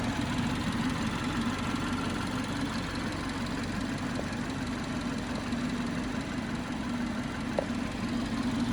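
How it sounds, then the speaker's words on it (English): A BMW 420i Gran Coupe M Sport's TwinPower Turbo 2-litre engine idles with the bonnet open, giving a steady, even low hum and close mechanical drone that holds unchanged throughout, with no talking. "So that's our twin power turbo 2 litre engine."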